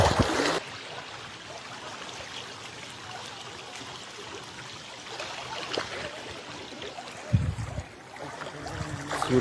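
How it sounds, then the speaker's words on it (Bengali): Strong floodwater in Sylhet rushes past as a steady, broad roar of flowing current, close and continuous, with a few louder splashes and knocks toward the end. "গভীর স্রোতের জন্য আসলে কথা শোনা যায় না"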